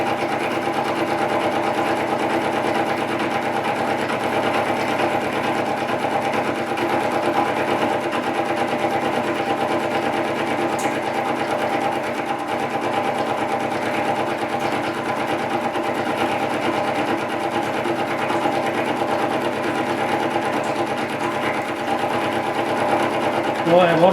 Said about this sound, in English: Put a new high performance cutter up there and away we go.